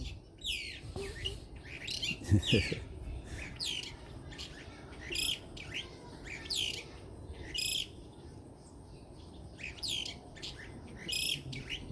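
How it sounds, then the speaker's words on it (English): Many birds chirp and tweet in the trees in quick, overlapping calls, some near and some farther off, over a soft outdoor background with no talking. "beautiful sound of birds, isn't it?"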